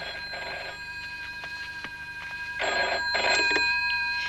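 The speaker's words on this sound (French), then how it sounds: "Va répondre au téléphone." A telephone rings twice in a drama, an electric bell trill sounding in two short bursts at moderate loudness over a quiet room.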